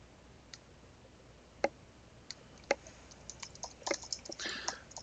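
Keys on a computer keyboard click in sparse, irregular taps that pick up into a quicker burst of typing near the end, close and fairly quiet with no talk.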